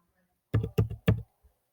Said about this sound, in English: I'm going to go ahead and type in my meeting ID